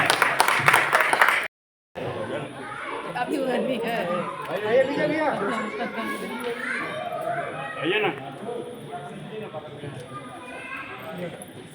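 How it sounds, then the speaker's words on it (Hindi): A brief burst of audience clapping at a community felicitation ceremony for the Shaundik/Sundi samaj breaks off after about a second, followed by a steady murmur of crowd chatter and children's voices. "आप सभी से विनम्रता से निवेदन की जोरदार तालियों से वंदन अभिनंदन"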